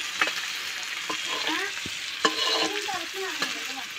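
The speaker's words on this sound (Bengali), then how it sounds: "কড়াইয়ে দিয়ে এটাকে আমি কষাবো।" Marinated mutton is stir-fried in a kadai for a mutton curry, with a busy, close sizzle and repeated scraping taps of a spatula against the pan.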